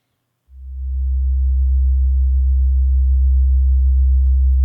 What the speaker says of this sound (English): what we are hearing is a sine wave, so with no harmonics at all, just a fundamental frequency